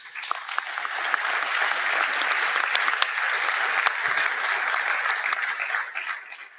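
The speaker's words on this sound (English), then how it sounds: "So a bit of a round of applause for our panelists." Audience applause for a conference panel, a dense steady clatter of many hands clapping that holds for several seconds before tapering off at the end.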